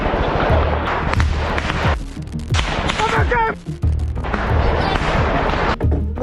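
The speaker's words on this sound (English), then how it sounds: "Russian artillery suppresses Ukrainian positions" Russian artillery shelling Ukrainian positions in war footage, loud repeated booms and crackling blasts in quick succession, with a voice speaking over parts of it.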